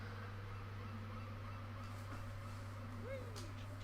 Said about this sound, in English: Listen to the birds and the sea.